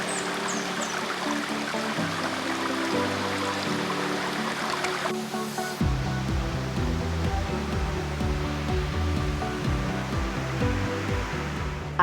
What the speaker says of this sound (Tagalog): Napapalitan ito ng tunog ng lagaslas ng tubig.